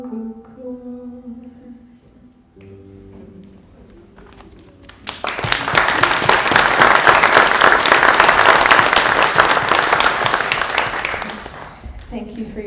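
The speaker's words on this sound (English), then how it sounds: "Thank you for your half-hearted applause." After a few seconds of soft piano, a concert audience breaks into loud, dense applause lasting about six seconds before tapering off as the piano resumes.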